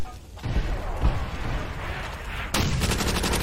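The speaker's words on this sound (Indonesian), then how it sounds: "Oh, shotgun." Gunfire rings out in Call of Duty: World at War multiplayer, with several sharp blasts and a rapid burst of shots in close succession mixed with game noise, growing louder toward the end.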